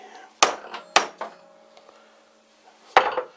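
Light hammer taps on wooden chuck wedges: three or four sharp, ringing knocks spaced irregularly, close and distinct against a quiet room.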